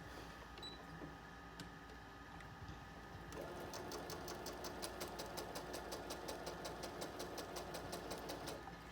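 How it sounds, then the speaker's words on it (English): A sewing machine stitching a quarter-inch seam along a quilted table runner panel, starting faintly then running fast and steady from about a third of the way in, a rapid even mechanical chatter close by with no speech. "I'm just going to stitch right down the side using a 1/4-inch seam allowance."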